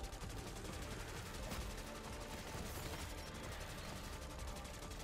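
Mustang and Sally pistols fire in Black Ops 6 Zombies, a dense continuous barrage of rapid gunshots and explosions with no pause, heard at a low, even level for five seconds.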